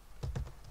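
A few quick, soft keystrokes on a computer keyboard, close and quiet in an otherwise still room.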